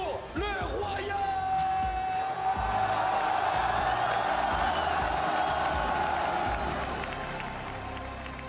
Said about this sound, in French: Une autre salle d'applaudissements s'il vous plaît pour le Royal.